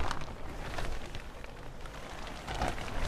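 Steady rain falls in a continuous broadband hiss with scattered drops and patters, fairly close and unbroken, with no voices.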